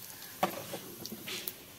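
Bay leaf dropped into hot oil in a kadai gives a brief sharp sizzle burst, followed by faint, soft crackling frying close by with no talk.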